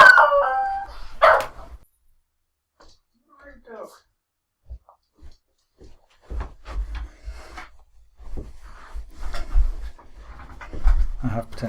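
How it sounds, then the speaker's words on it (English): A dog pants in quick, rhythmic breaths, broken by a few sharp barks and a brief howling yelp near the start, close to the microphone in a quiet indoor room. "I have potentially the angriest dog."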